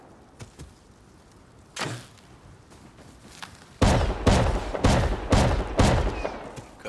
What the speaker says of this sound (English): Now they're trying to shoot out my shotgun trap